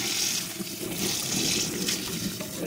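Chicken livers and gizzards being washed with water, a steady close splashing and running-water sound that continues without a break through the whole stretch.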